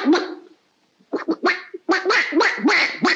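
A man imitates a duck with his voice, a few raspy nasal quacks, then a pause, then a quick burst of repeated quacking calls, close and clear.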